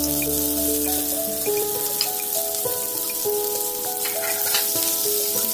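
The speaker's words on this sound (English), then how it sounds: "when the oil is hot enough, let's add in the onions" Sliced onions fry in hot oil with a constant crackling sizzle, while steady tonal music plays over it the whole time.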